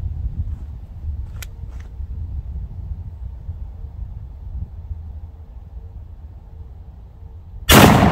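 A 12 gauge shotgun fires a Hornady SST sabot slug during a sight-in at a range. One sudden loud blast comes at the very end, after a stretch of quiet outdoor hum and a couple of faint clicks.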